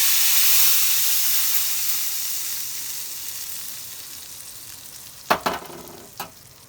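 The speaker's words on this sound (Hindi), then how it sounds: "अब एकरा हम एमे तड़का लगा देवे।" Loud hissing sizzle of asafoetida and spices tempering in hot oil for onion pakora kadhi that slowly fades, followed by a few clanks of a utensil against the pan.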